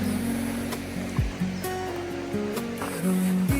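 Seaside waves wash steadily in a broad, continuous rush of surf, moderately loud, with a few faint low thumps and no voices.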